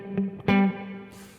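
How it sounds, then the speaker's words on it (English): Electric guitar through a Fender Twin Reverb amp with the spring reverb set high plays two plucked low notes that ring out with a splashy reverb tail, alone with no talking. "I've here a Fender Twin reverb, and the spring reverb is pretty on a high level."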